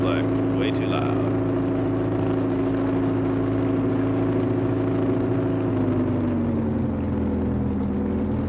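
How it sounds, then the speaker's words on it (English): A steady, droning motorboat engine from a yacht sailing simulator game hums loudly and continuously, its pitch sagging slightly near the end, with a short voice early on. "that engine, especially when it's full tilt, is like way too loud"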